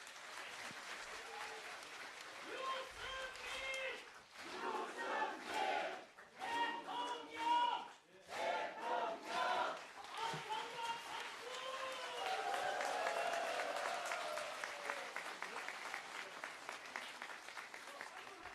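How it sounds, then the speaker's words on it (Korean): Crowd at a presidential campaign announcement responds with applause and cheering, with a voice speaking over the room in the first half before steady clapping builds and holds, fairly distant and quiet overall. "여러분 이 가족께 격려의 박수, 축하의 박수 부탁드립니다."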